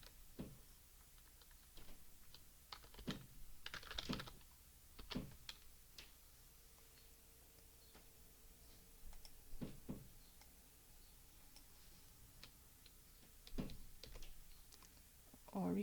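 Typing on a computer keyboard while entering a search in a hospital emergency department order system: scattered, faint clusters of key taps with pauses between bursts, in a quiet room.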